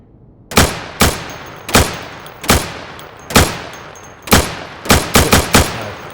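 Rifle shots fired at plywood targets in the tactical shooter game Insurgency: about eleven sharp, loud, close reports, evenly spaced at first and then a quicker cluster of four near the end, with no talk.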